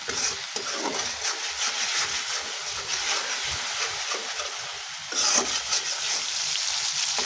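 Salt, chili powder, turmeric and coriander powder sizzle in a pan with rohu fish as they are sautéed, a continuous hissing fry broken by scraping stirs.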